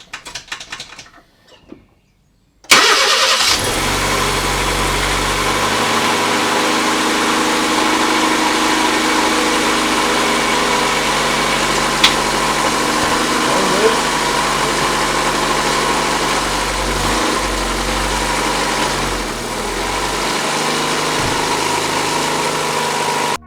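A Honda Civic engine idles with a steady low hum and even vibration for over twenty seconds, after a brief quieter moment with faint clicks before it settles in.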